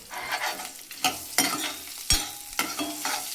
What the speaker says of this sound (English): Now mix well.